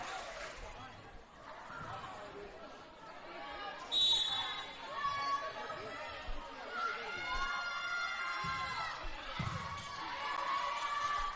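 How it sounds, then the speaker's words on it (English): A loud away crowd cheers and shouts in a gym during a girls' varsity volleyball match against Eastlake, a steady roar with rising yells and a ball bouncing, while a commentator talks over it. "The away crowd is loud"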